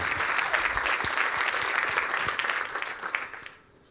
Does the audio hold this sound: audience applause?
yes